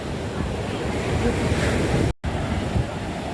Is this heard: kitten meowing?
no